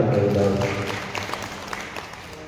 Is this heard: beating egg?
no